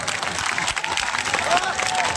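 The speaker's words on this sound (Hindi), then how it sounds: "ताली ना बजो" A rally crowd claps in a brief burst of scattered applause, with murmuring voices and crowd noise mixed in.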